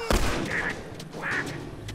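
A sharp gunshot cracks near the start of a firefight in The Last of Us Remastered, followed by a steady wash of game noise and brief voice-like calls.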